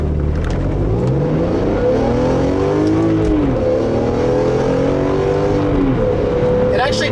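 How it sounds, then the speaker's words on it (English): A 2002 BMW M3 SMG accelerates hard from inside the cabin, its engine note climbing through the revs, dropping at a paddle-shifted gear change and rising again; the engine is loud and near, with someone talking over it. "Now let's try it in the manual mode with the paddle shifters and see how that makes"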